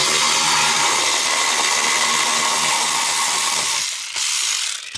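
A ratchet wrench ratchets continuously and loudly up close while removing bolts from the dashboard of a GMC Envoy during a steering-slop repair, clicking in a fast steady stream before stopping briefly near the end.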